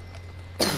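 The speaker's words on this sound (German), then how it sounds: "Weil du hustest." A single short cough bursts out near the end after quiet room tone, close and abrupt.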